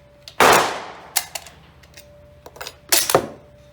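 Enfield No.4 Mk1 rifle fired at a target, with one loud close shot followed by metallic clanks and rattles of the bolt being worked, then another sharp report near the end.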